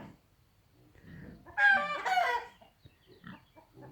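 Chickens cluck and squawk in a brief loud burst midway, with quieter farmyard sounds before and after, including hungry pigs squealing.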